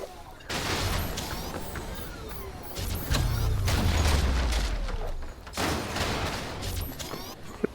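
Explosive barrels blowing up a house in the video game Crysis, a series of booming blasts and crackling bursts with a deep low rumble swelling in the middle, moderately loud and sustained over several seconds.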